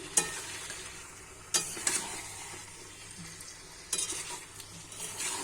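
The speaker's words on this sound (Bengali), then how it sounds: "এবার আমি ভালো করে মশলাটার সাথে এঁচড় আলু ভালো করে কষিয়ে নেব" Jackfruit and potato frying with spices in a pan for a prawn curry, a continuous close sizzle under occasional sharp scrapes and knocks of a spatula against the pan.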